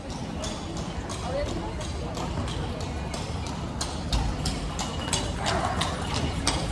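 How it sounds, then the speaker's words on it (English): A horse and cart clip-clop along a busy city street at night in Lviv, Ukraine, with steady hoofbeats partly masked by crowd noise and someone talking nearby. "Horse and cart here."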